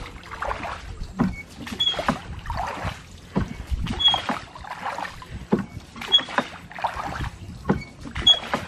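A boat moves through the Pichavaram mangrove waters, with repeated rhythmic paddle or oar strokes splashing close by, roughly one stroke every second.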